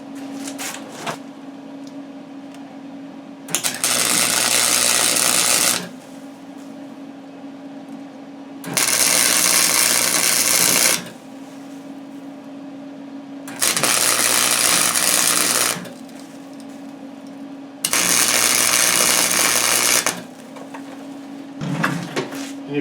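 Steel dock brackets being welded in a workshop, arriving as four loud, broadband crackling bursts of about two seconds each, separated by quieter gaps with a steady low hum underneath.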